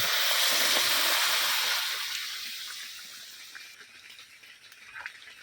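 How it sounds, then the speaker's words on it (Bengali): Hot water poured into a pan of frying mutton for a Bengali village-style curry, a loud rushing hiss and bubbling that starts strong and gradually subsides into a softer simmering sizzle, with no talk. "এর মধ্যে এবার গরম জল দিয়ে দিচ্ছি।"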